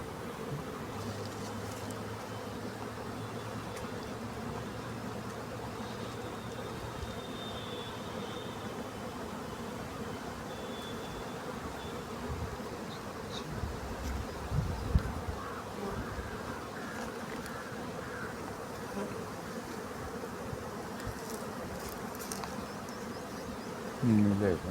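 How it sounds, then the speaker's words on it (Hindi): Honey bees swarm around the entrance of a wooden hive box on a bee farm, a steady dense buzzing drone that lasts throughout, close and even, with faint background noise and no clear talk. "ये इसका प्रवेश द्वार होता है जहाँ से मधुमक्खियाँ अंदर जाती हैं और अपने मधु को जो है संचित करती हैं अपने छत्ते में।"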